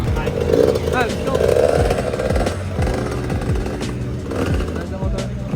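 A motorcycle engine on a road trip through Lamitan, Basilan, droning steadily with repeated rising and falling revs as gears change, wind rushing throughout and voices talking over it.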